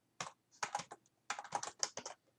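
Keystrokes on a computer keyboard entering router configuration commands, coming in quick clustered bursts with short pauses between, close and fairly quiet.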